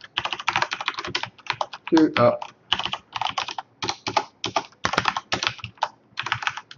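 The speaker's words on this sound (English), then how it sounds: "You can see this keyboard is a lot louder." Loud clacking computer keyboard typing in quick irregular bursts, close and dominant, with a brief exclamation from a voice partway through.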